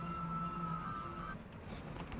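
An electric side mirror motor whirs on a Dacia Sandero as the right mirror is adjusted. A steady, close mechanical hum with a tonal whine runs for just over a second and then stops, leaving quiet room noise.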